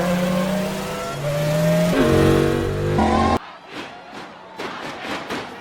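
Race cars in the animated film Cars roar off at the start of a race, with loud sustained engine revving and a swelling crowd and music, then a sharp cut to pulsing, whooshing passes.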